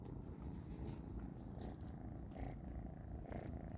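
A steady, low rumbling purr from a tomcat, continuous and fairly close, with faint background noise and no talking.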